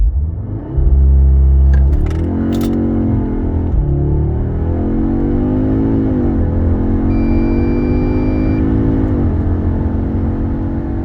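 A new Audi S3 with a DSG gearbox launches hard from standstill. Its engine note climbs steadily and drops briefly at each quick gear change, through several rising sweeps, loud and close with no talking.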